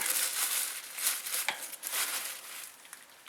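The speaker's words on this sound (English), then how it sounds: "I just use a plastic bag." A plastic bag wrapped around an oil filter during an engine oil change on a 2005 Honda Odyssey crinkles and rustles close by in irregular bursts, with brief sharper crackles and no talk.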